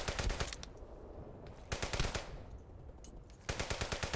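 Rapid bursts of rifle and automatic gunfire in the war game Brothers in Arms: Hell's Highway, three loud volleys of closely spaced shots separated by quieter gaps.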